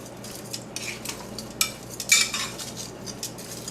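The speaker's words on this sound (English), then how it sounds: "Just gonna mix this" A spoon scrapes and clinks in a bowl as fish stew ingredients are mixed with olive oil and salt, making soft, close, irregular metallic taps and swishes with no talking.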